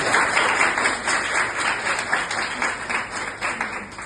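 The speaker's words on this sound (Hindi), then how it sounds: "तो एक बार लास्ट टाइम आप सभी के लिए बहुत जोरदार तालियां" Applause from an audience at a motivational speech event, a moderately loud patter of clapping that swells and fades in waves, heard alone without speech.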